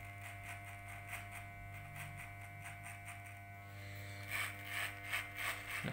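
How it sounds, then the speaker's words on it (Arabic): An electric hair clipper used without a comb gives off a steady mechanical buzz with a droning hum, and faint clicks and rasping cuts grow stronger toward the end. "دائما استخدام الماكينة بدون مشط"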